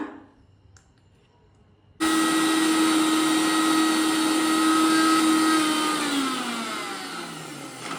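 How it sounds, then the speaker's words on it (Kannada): A mixer grinder switches on abruptly and grinds leafy greens for a Shivamogga-style soppina bassaru, giving a loud, steady motor whine that runs for several seconds, then slows and winds down near the end. No one speaks. "ನೋಡಿ, ಈಗ ರುಬ್ಕೊಂಬರೋಣ."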